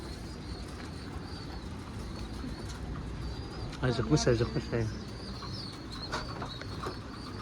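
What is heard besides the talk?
Ankara pigeons cooing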